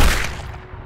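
A single sharp gunshot from a TV crime drama cracks loudly and then decays over under a second.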